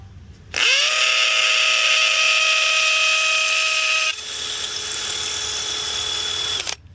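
Power drill with a masonry bit boring into mortar while mounting a rodent bait station, a loud steady whine that starts abruptly, drops in pitch partway through as the bit bites, then cuts off, with no talk.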